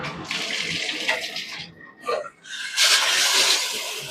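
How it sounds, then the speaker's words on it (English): Water sprays steadily with a broad hiss, briefly interrupted midway, then resumes strongly, like a shower running close by. "let's turn the water on so we can see what the different shower heads look like"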